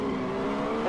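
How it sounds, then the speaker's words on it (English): A rally car in Richard Burns Rally screeches its tires without a break, a steady, loud squeal layered over engine drone for the whole short stretch. "tire screech"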